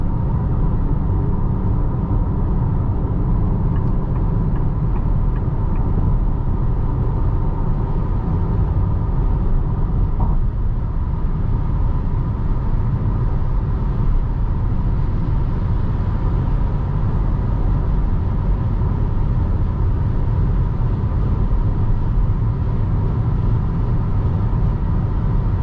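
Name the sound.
tire noise from Chinese tires while driving Geely Coolray on highway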